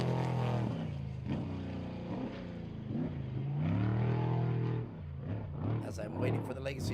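Off-road race vehicles at the Legacy Racing State Line Shootout, engines whining and rising in pitch as they pass, with steady talk running over the vehicle noise.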